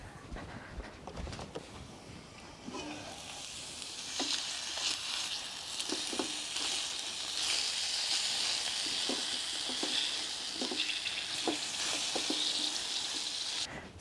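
Chicken sizzles and fries in a wok on a Cobb grill with the lid in use, giving a soft, steady hiss with scattered pops and crackles, fairly faint and close.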